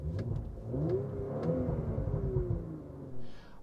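Cabin view of a 2019 Audi RS5 Sportback with its 2.9-liter twin-turbo engine, a steady low rumble rising and falling in pitch as it accelerates, heard from inside at close range with no talking.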